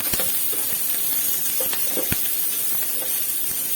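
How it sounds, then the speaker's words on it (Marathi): Cut green chillies sizzle in hot oil in a pan, a steady close frying hiss with a few sharp crackles and faint clinks, and no talking. "आणि ह्या कट केलेल्या मिरच्या मी या तेलामध्ये टाकत आहे तेल छान गरम झालं आहे"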